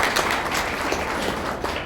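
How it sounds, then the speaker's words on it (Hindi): Audience applause at a Hindi-language community organisation meeting, a loud continuous patter of many hands clapping with uneven bursts throughout. "तो जोर से बजाओ ताली।"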